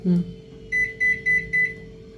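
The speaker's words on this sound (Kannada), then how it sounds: "ಪವರ್ ಲೆವೆಲ್ ಅಂದ್ರೆ ಅಂದ್ರೆ ಮೈಕ್ರೋವೇವ್ ಹೀಟ್ ಆಗೋದು" A microwave oven set to its baking mode gives four evenly spaced, clear electronic beeps after a short low tone, over a steady faint background hum.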